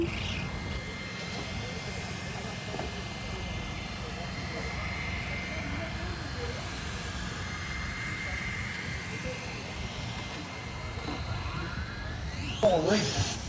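RXGT RC race cars starting a race at SCOR Raceway in Anaheim, California, a continuous buzzing motor drone from several cars at a distance, steady throughout with a brief louder rise near the end.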